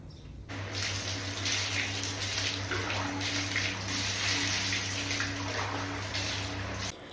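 Tap water runs for a pet's bath, a steady, close rushing flow that starts abruptly, holds at an even level for several seconds, then cuts off.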